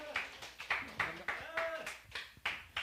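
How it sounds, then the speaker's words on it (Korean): A small group claps in thanks at the close of a Buddhist sutra lecture in a Korean temple, a sparse, steady round of hand claps heard at modest distance with faint murmuring. "감사의 박수 드립니다"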